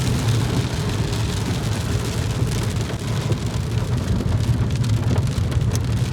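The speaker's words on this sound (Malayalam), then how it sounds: "നല്ല മഴയുണ്ട്" Heavy rain pours steadily in Kodaikanal, a dense continuous hiss of drops with a low rumble underneath and no voices.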